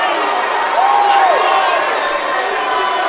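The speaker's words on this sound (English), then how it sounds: "The crowd is going nuts over that knockout" A boxing arena crowd roars and cheers loudly after a knockout, a dense sustained wall of shouting and applause with a whistle rising through it, while a commentator's voice runs over the noise.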